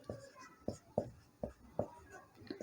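Chalk or marker taps and scratches on a board while a comma is written. About seven short, close strokes land in an uneven rhythm, quiet and clear, with no talk over them.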